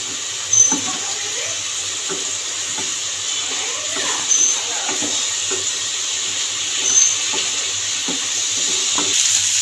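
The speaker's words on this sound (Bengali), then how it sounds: "এবার মশলাটা দিয়ে ভালো করে কষিয়ে নেব সবজিটাকে" Cauliflower stalks stir-fry with ground spices, green chilli paste and turmeric in a pan, giving a constant hissing sizzle with a few sharper scrapes and clatters of a spatula, close up and without speech.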